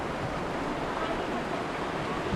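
Floodwater rushes and pours down in a steady, loud roar where a flood-control structure collapsed in Angeles City, Pampanga, washing houses away; the dense broadband rush continues without a break.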